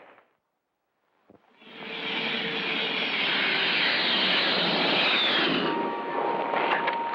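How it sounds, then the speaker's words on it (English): A Grumman Tiger jet engine swells into a loud, sustained roar with a high whine, then eases slightly. "this is my friend, the Grumman Tiger. It's a jet"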